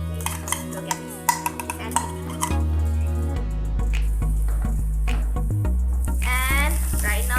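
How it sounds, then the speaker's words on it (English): Ghee being stirred into thick rava kesari in a pan: a steady sizzle with scraping and clinks of a spoon against the pan, close and continuous, with faint music-like tones in the background. "right now I'm gonna mix this ghee with this Rava Kesari"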